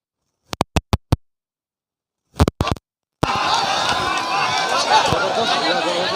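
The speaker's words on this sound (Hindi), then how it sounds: "खड़े होकर तालियां ठोके" Audience applause rises suddenly after a few sharp isolated claps and continues as steady, dense clapping from a large crowd, with some chatter mixed in.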